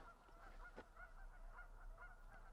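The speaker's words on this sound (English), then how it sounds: "I hear Canadian geese over there" Canada geese honking far off across lake mud flats, faint repeated calls over a steady low outdoor hum, with no voices.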